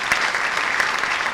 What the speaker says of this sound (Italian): Facciamo l'applauso all'autrice di questo straordinario libro, Sulle note di un violino.